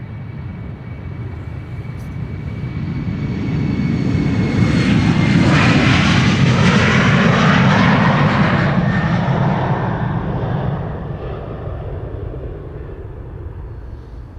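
A KLM jet airliner takes off at Amsterdam Schiphol Airport with a loud, close engine roar that builds, peaks mid-run with a rushing whine and then tapers off slightly. Nobody speaks.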